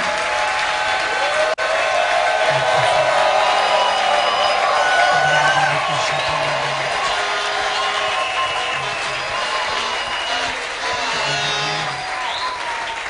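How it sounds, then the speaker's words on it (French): A crowd claps steadily and loudly throughout, with scattered cheers and voices mixed into the applause. "stand to your feet as we clap our hands"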